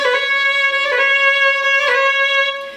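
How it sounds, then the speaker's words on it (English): A Celtic fiddle roll ornament played at full speed, quick pitch flicks around a sustained bowed note repeating in a lively rhythm, close and solo with no talking. "But when you get it going fast, it actually sounds like this."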